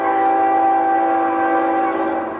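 A loud, sustained train horn blares steadily, a rich multi-tone chord held for a couple of seconds before beginning to fade.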